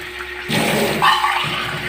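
Water pours into a dish of sardines being cooked, a sudden rushing splash that begins sharply and keeps running loudly to the end, with no talking.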